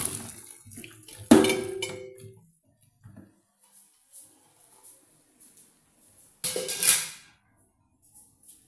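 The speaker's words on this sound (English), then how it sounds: "I'm going to put off the fire and drain out the water." Water from a pot of boiled cassava is poured off in two short splashing bursts, one early and one later, with faint clinks of the pot in the quiet gaps.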